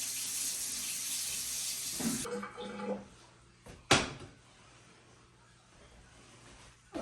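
Hot water runs from a kitchen tap into a pot for boiling eggs, a steady hiss that cuts off, followed by brief clunks and a sharp knock. Someone speaks briefly.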